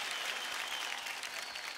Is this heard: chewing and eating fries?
no